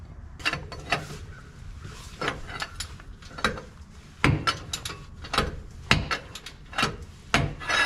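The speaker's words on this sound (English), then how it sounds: "So I'm just gonna probably put a breaker bar on that and just loosen that bolt up." A breaker bar loosening the panhard bar bolt on a 5th-generation Toyota 4Runner, heard as a series of close, sharp metallic clicks and creaks that come in irregular bursts with brief pauses between them.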